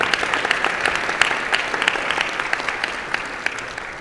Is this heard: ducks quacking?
no